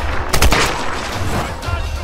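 Gunshots in the video game Tomb Raider Definitive Edition, a few sharp close reports in quick succession over a steady game ambience, with no talk.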